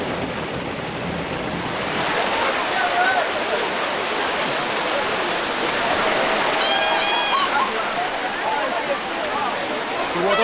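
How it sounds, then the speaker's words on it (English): Hot spring water gushes out of the mountainside at Korbous, Tunisia, and runs down toward the sea in a continuous rushing roar, with a voice faintly under the water noise. "The water flows out the mountain and they design it in a way it flows down into the ocean"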